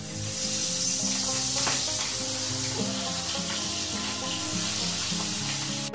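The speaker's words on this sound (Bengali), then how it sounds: "এবার মাছে আলু বেগুন কষানো হয়ে গেছে" Tangra fish with potato and eggplant sautéing in a pan, giving a steady, close, loud sizzle with light stirring scrapes throughout and no talk.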